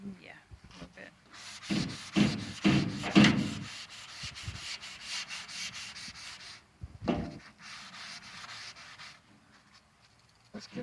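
Coarse steel wool scrubbing the tailgate of a 1977 GMC truck, rough rasping strokes in quick bursts that come close and loud, with short pauses and people talking between them.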